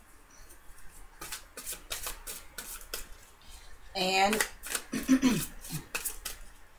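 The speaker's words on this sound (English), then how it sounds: "while I shuffle these cards a little bit" A deck of tarot-style cards being shuffled during a reading, giving a run of quick crisp riffling clicks and flutters at close range, with a brief spoken word partway through.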